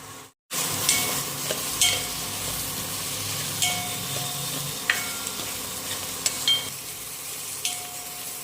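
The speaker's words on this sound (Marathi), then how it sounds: "इथे कांदा थोडासा परतून घेते" Onion sautéing in a pan for dhaba style sev bhaji, a steady soft sizzle with light stirring scrapes and occasional clicks, close and alone without talk.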